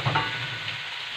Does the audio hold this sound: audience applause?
no